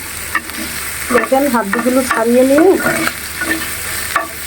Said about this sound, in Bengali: এই তো সামান্য পরিমাণে সরিষার তেল দিয়ে মুরগিটা ভেজে নিচ্ছি।